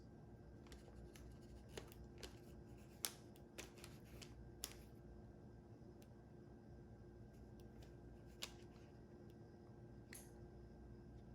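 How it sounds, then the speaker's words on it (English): Kitchen scissors snip into risen baguette dough with a few sharp, quiet cuts spaced apart, with no talking. "So I tend to use the scissors, just make a couple cuts."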